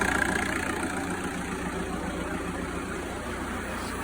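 Modified VW Touran engine idling steadily up close, a continuous low rumble with an even hum and no talking, holding constant loudness throughout.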